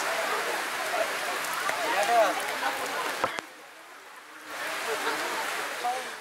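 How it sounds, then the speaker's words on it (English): Heavy rain pours down during a street fiesta celebration, a steady hiss that drops away briefly midway before returning, with a sharp knock and faint background voices. "it's raining so hard"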